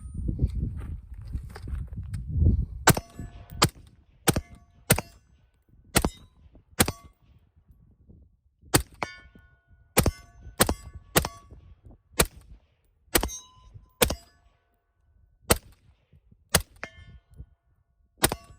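Suppressed gunshots from a very small Witt Machine and Tool Canooter valve suppressor, about fifteen sharp, clipped cracks fired singly and in quick pairs at uneven spacing, with a rumbling noise early on.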